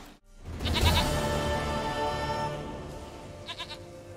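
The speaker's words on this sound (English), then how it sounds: "Goat of mine! Dearest, sweetest goat!" A goat bleats once loudly and close, a long wavering cry that fades out, with a short quieter bleat near the end.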